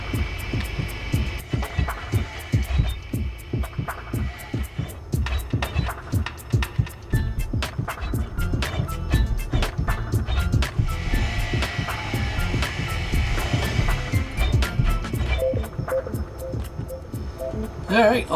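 A grinder tearing apart ship thrusters in Space Engineers, a rapid train of loud, regular rhythmic pulses over a throbbing hum, continuing steadily with brief pauses and tonal shifts, no talk heard.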